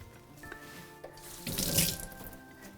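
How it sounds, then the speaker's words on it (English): A kitchen tap runs water over a sprig of basil, a soft hiss that swells into a brief splashing rinse before easing off, quiet and close. "Just give that a little rinse."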